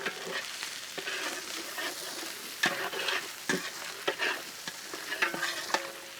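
Green chillies frying with ginger garlic paste in hot oil for a Kerala-style fish curry, a close steady sizzle broken by repeated spoon scrapes and crackling spatters, with no voices.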